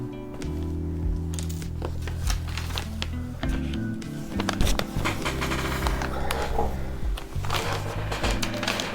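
Sewing machine back stitching over a lapped fly front zipper, a steady mechanical run of needle strokes with brief pauses and shifts in speed, close and continuous.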